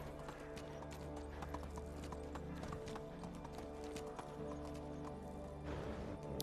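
Horse hooves in Medieval Dynasty on Xbox, a steady quiet clip-clop of riding with a brief whinny, soft and continuous under low game ambience.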